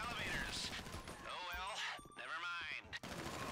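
Gunfire in GTA V Online, sharp shots and bursts heard at moderate loudness mixed with game effects, while players talk over them.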